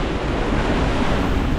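Strong, gusty wind roaring across a boat at sea in the Bahamas, dense broadband rush buffeting the microphone continuously throughout with no voices.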